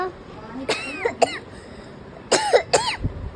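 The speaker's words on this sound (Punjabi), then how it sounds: "ਮੈਨੂੰ ਖਾਂਸੀ ਕਿਉਂ ਆ ਰਹੀ ਹੈ" Someone coughs close up in two pairs of sharp, throaty coughs with a quiet pause between them.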